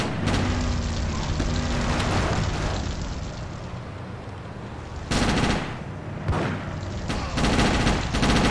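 Gunfire and explosive booms from GTA Chinatown Wars during a police chase, dense and continuous with bursts of heavier blasts near the middle and end.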